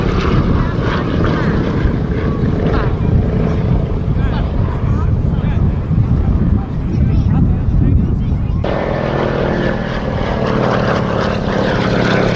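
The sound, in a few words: Lockheed 12A Electra Junior aircraft propeller engine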